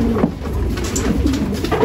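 Racing pigeons coo steadily and close by at a loft, a soft continuous burbling over low background noise, with no talking.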